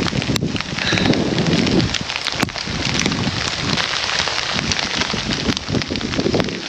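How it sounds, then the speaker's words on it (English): Hail pelting down during a storm on a high mountain pass, a dense continuous hiss of impacts with gusty wind noise buffeting the microphone throughout, no voices. "Ah, it started hailing!"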